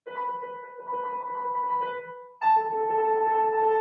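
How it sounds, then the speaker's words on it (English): A synth pad plays long, sustained notes that step downward, two smooth held chords with a clean change midway, clear and alone. "a synth pad that mostly plays long notes and descends by step like this"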